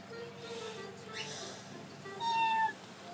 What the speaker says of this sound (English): She has a kitty cat.